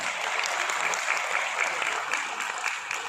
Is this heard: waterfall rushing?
no